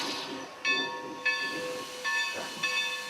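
A steam locomotive at the Jamestown Roundhouse on the Sierra Railroad lets out bursts of hissing steam, four or so sharp puffs with whistle-like ringing overtones, fairly close, without talk.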